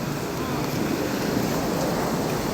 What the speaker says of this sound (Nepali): कहाँको हावा आयो भने त यत्रो खोला रहेछ यहाँ